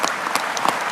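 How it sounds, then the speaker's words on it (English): Brief burst of audience clapping at a political comedy talk, fairly close and steady for about a second with no talk over it. "Why are they clapping?"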